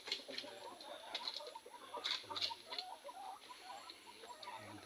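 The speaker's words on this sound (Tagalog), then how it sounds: "Mga manok." Chickens at a coop in a rural forest setting, faint scattered clucks and short squawks over a quiet background, no talking.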